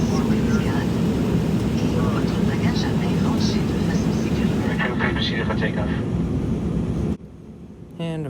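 Porter Airlines Embraer E195-E2 jet taking off from runway 26 left at Vancouver, a loud, steady cabin roar with a voice talking over it, cutting off sharply near the end.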